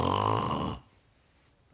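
A voice imitates a giant's loud snore, one long rasping, throaty snort close to the listener that cuts off abruptly, leaving near silence.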